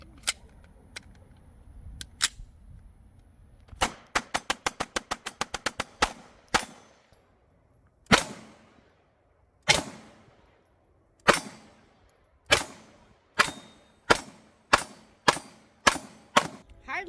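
A Springfield Armory Echelon 9mm pistol fired at an outdoor range: scattered single shots, then a fast string of rapid shots emptying an extended magazine, followed by evenly spaced sharp reports, loud and close.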